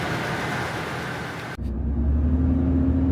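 A pickup truck, one of several Ford F-150 project trucks with a smooth-running engine on all cylinders, idles steadily close by after a door thump, its low engine drone holding at an even level.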